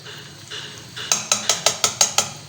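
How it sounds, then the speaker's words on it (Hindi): A metal spoon or spatula stirs malpua in a pan, starting with soft scraping and then striking the pan in a quick, regular series of about seven bright clinks. "फिर मैं इसको छेड़ूंगी, हिलाऊंगी।"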